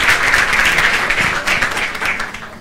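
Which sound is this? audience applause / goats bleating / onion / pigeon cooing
audience applause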